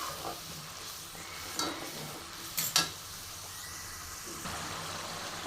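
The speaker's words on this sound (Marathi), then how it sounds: "प्रत्येक मसाले तेल सुटेपर्यंत आपल्याला भाजून घ्यायचे आहेत" Spices and tomato roasting in oil for vegetable biryani make a steady soft sizzle, broken by a few sharp scrapes and clinks as the pan is stirred, with no voices.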